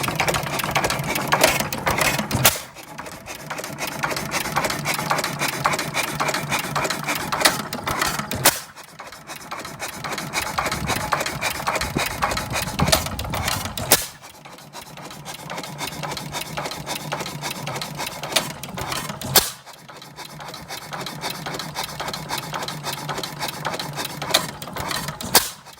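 A 6 HP International Harvester Famous stationary engine running slowly at about 200 RPM, with a steady mechanical chuffing drone punctuated every few seconds by a sharper firing bang, loud and close with no talk.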